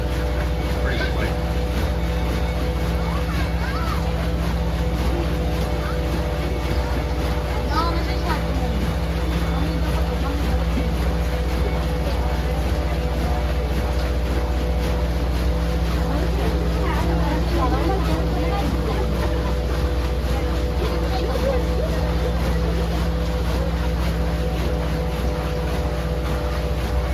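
Paddle boat cruising on the Cass River at Frankenmuth, a constant low engine drone and rumble with people talking over it the whole time.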